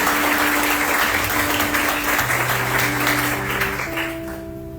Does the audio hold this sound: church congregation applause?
yes